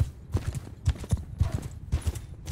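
Horse hooves galloping in the Mount & Blade video game, a close, rapid, rhythmic clip-clop of repeated heavy thuds in quick clusters, continuous across the clip with no clear talking.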